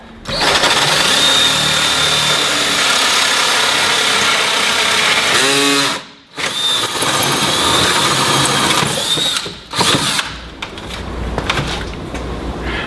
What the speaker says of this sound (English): now I'm going to drill my hole all the way through the doghouse